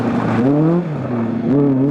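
A Ford Mark I Escort RS 1600 rally car engine drones loud and close, its pitch wavering unevenly as it runs rough on a rally stage.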